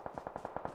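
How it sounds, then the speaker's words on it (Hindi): Rapid automatic gunfire in a battle royale video game: a quick, even burst of about eight shots, fairly quiet and distant, with no voices. "गन साउंड आ गई ड्रॉप की ओर से।"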